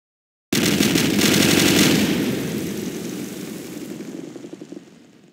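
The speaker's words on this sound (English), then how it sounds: "We are under enemy heavy fire!" Heavy enemy machine-gun fire in a naval battle video game, a loud sustained rattling burst that starts abruptly, then slowly fades with scattered shots.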